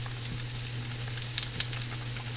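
Carrots stir-frying in a pan, a steady close sizzle and crackle with occasional scrapes and stirring clinks, no talking.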